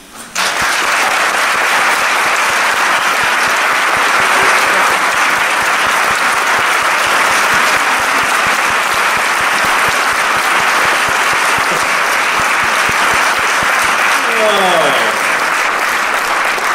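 An audience in a performing arts center breaks into sustained, loud applause to welcome author Craig Johnson, a dense wash of clapping that holds steady for many seconds before tapering slightly near the end.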